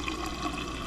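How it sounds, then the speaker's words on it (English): Water runs steadily from a refrigerator's water dispenser spout, a brief, even rushing stream without breaks. "if you go to use your water dispenser and there's a delay in the water coming out"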